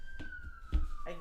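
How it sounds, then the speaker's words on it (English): A siren wails steadily in the distance, its tone sliding slowly downward, with muffled bumps and low rumbles nearby. "these sirens are blaring"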